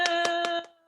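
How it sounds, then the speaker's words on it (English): Four quick claps ring out in an even rhythm over a sustained musical chord, then the chord fades away. "Claps all around."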